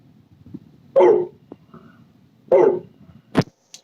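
A person imitates an angry wolf's bark with their voice: two loud, gruff barks about a second and a half apart, then a short sharp burst, close to the mic with light background noise.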